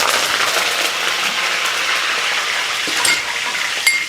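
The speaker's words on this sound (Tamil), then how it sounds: "எண்ணெய் வந்து நல்லா சூடாக இருக்கும்போது கருவேப்பிலையில் சேர்த்தோன்னா டப்புன்னு வெடிக்கும்" Curry leaves dropped into hot oil for a quick mango pickle crackle and sizzle in a steady, loud, broadband hiss that holds throughout, with a few sharper pops near the end.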